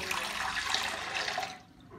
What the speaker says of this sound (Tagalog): Ayan, lagyan natin to ng tubig.